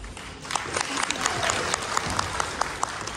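An audience applauds steadily, with a few sharper individual claps standing out above the dense, continuous wash of hands.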